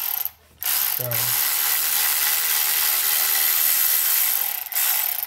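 Ratchet working a cylinder head bolt on a C5 Corvette engine, a rapid continuous clicking of the pawl close up after a brief short word and a short creak as the bolt breaks free.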